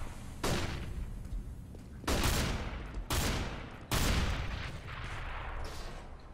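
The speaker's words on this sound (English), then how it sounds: "That's me breaking the vents." Vents are broken in Counter-Strike: Global Offensive, heard as four loud, sharp crashing impacts about a second apart, each trailing off into a clattering, noisy decay. No one speaks.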